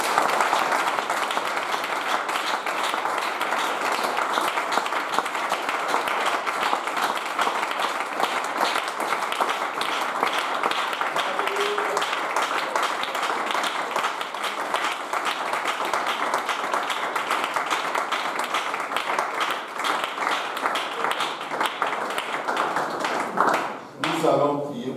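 A church congregation applauds steadily for about 25 seconds during a worship service, a dense, sustained wash of many hands clapping with no pause, easing slightly near the end.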